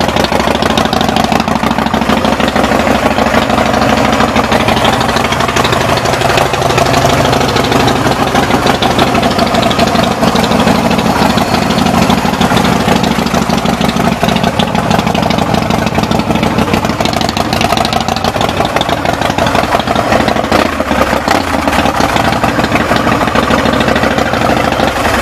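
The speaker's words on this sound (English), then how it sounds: "Let me go ahead and fire up here for you." A Big Dog Fireball motorcycle engine idles steadily close by, a loud, continuous throbbing rumble that holds an even rhythm throughout with no talk over it.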